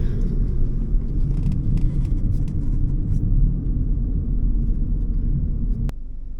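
An Audi A1 40 TFSI hatchback driving with stability control switched off, a steady, loud low engine and road rumble heard from inside the car, dropping slightly near the end.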